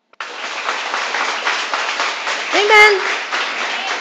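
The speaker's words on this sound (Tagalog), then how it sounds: "pumalakpak ka" A church congregation claps together in a service, a dense and sustained round of applause, with a single voice briefly calling out over it near the middle.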